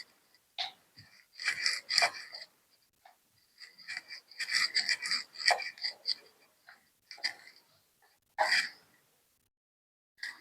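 Puri dough for dahi pakpuri is rolled thin with a rolling pin on a wooden board, giving soft, close rasping strokes that come in short bursts separated by quiet gaps.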